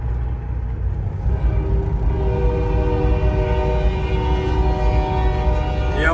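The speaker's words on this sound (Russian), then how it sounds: "Я вот с этим поездом уже наравне минут 5 еду" A freight train rolls alongside a road, heard from inside a Kenworth W900L truck as a steady rumble with long sustained tones that rise gradually, heavy wheel and engine noise continuous throughout.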